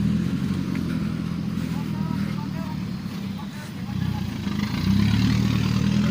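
A tractor's engine rumbles as it arrives at a road construction site where dump trucks spread soil, a steady low drone that swells louder toward the end while someone talks over it.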